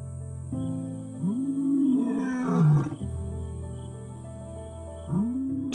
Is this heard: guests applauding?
no